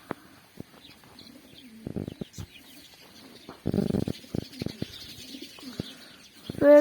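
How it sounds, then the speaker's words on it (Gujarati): Pet pigeons perched on pegs and nesting boxes coo in low, throaty rolling phrases, mixed with flutters, scuffles and short chirps, fairly close and lively throughout. "જો મિત્રો જોયા તમે મારા કબૂતરા."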